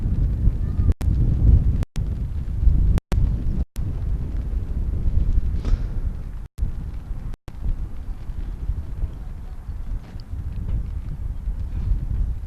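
Strong wind rumbles and buffets the microphone at an outdoor sports match in chilly rain, a constant low roar broken by a few brief dropouts.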